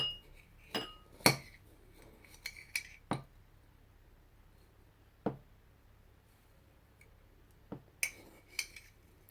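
Small metal spoons clink sharply against containers while sugar and coffee are measured out, a scatter of bright, near taps in irregular clusters separated by quiet gaps.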